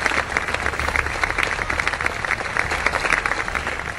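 An audience applauds students after their performance, a steady, dense patter of many hands clapping throughout four seconds, fairly loud and close.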